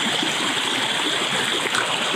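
Creek water streams and splashes steadily around a camera held low in the flow during a wade across, a continuous close broadband rush with no voices.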